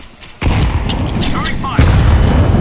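A grenade detonates in a multiplayer shooter video game with a sudden heavy boom, followed by a second blast with rumbling debris, while voice chat and in-game callouts run underneath.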